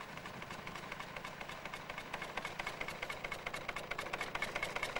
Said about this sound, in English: And the engine pulls it right along the track and up into the mill.